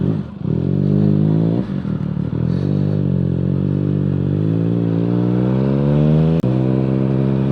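A Triumph Speed Triple motorcycle revs through its exhaust pipe, a loud close engine note that drops between throttle blips and then climbs steadily in pitch as it accelerates, with a brief sharp click near the end.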